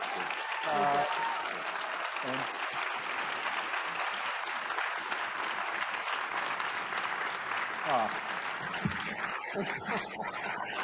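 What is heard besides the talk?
applause for Sandra and Peter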